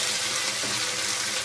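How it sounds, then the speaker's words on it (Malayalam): Water poured into a pan of pav bhaji with mashed potato, a steady broad rushing splash that runs evenly throughout without pause. "ഇനി ഇതിലോട്ട് നമുക്ക് കുറച്ചൊരു വെള്ളം ആഡ് ചെയ്യാം"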